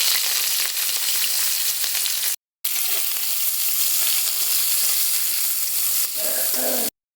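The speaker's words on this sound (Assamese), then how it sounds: "তেল গৰম হ'ল, মই ইয়াতে এতিয়া পিঁয়াজ দিছোঁ" Chopped onions frying in hot oil in a wok, a steady loud hiss and crackle that runs without talk, cut by a short silent gap and ending abruptly.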